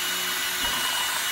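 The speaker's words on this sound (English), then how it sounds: "we're gonna be drilling a 3/64-inch hole sideways through the lube and converter flow" A drill bores a 3/64-inch hole sideways through the lube and converter flow passage of a 47RE transmission valve body. It makes a brief, steady whir that continues without a break.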